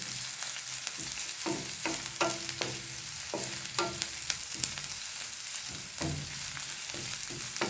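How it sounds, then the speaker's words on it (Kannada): Sambar masala fries in a pan until browning, a soft steady sizzle under repeated knocks and scrapes of a spatula stirring, moderately quiet and close, with no speech. "ಚೆನ್ನಾಗಿ ಫ್ರೈ ಮಾಡಬೇಕು ಕಂದು ಬಣ್ಣ ಬರುವಾಗ"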